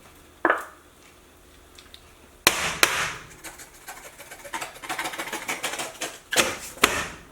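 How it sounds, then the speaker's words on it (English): A can of Spam being knocked and tapped to free the meat, with a series of sharp metallic clanks and thuds, close and loud, irregular knocks continuing over several seconds in a kitchen. "So let's see if we can get this out of the can."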